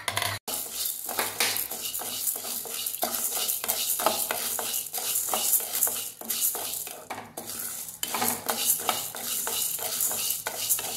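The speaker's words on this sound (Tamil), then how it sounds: "எல்லாமே பொன்னாரமாக வறுத்துக்கணும்" Chana dal lentils dry roasting in a pan with no oil, a steady dry rattle and scrape of stirring, continuous and fairly close, with no talking.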